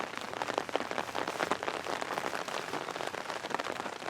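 Steady rain falls on a surface outdoors near a chicken coop, a dense continuous patter of drops with no voices.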